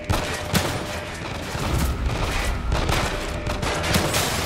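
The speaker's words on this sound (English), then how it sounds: "at that point we should just shoot like crazy" Rapid gunfire rattles through a firefight in The Evil Within 2, with bursts of shots overlapping into a continuous loud fusillade, close and dense throughout.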